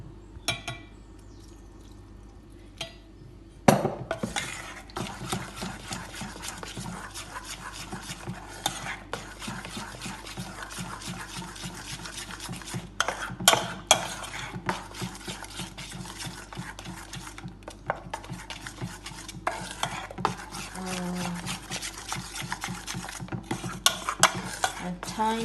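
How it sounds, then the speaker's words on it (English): Vada pav mixture is stirred in a pot: repeated scraping and knocking of a spoon against the pot, close and irregular, starting after a brief quiet opening, with a faint sizzle underneath. "Give it a good stir."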